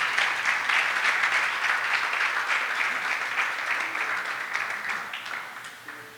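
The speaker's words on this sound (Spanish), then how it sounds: "¿Cuánto le da un fuerte aplauso a mi Señor en esta mañana?" A church congregation applauds during a Sunday morning service, with dense, sustained clapping that starts strong and gradually fades toward the end.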